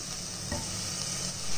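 A steady, close sizzle of onions and tomatoes sautéing in a hot pan, with a brief stir partway through and no one speaking.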